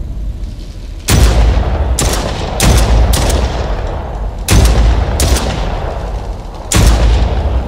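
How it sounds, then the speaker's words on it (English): Heavy gunfire in a video game, loud bursts that come at irregular intervals, each one sharp and booming with a reverberant tail, and no talking over it. "Final round, we need the machine gun."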